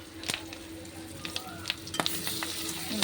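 Fish roe fries in oil in a pan and is stirred. A close, continuous sizzle carries scattered crackles and scraping stir sounds, with no talking.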